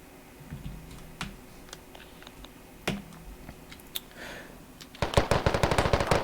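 Rapid machine gun fire in the military shooter game Squad, a long fast burst of loud, evenly spaced shots near the end, after scattered single distant gunshots and quiet background ambience.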